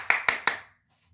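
Three quick, crisp hand claps sound close by in a dry room, evenly spaced, followed by silence.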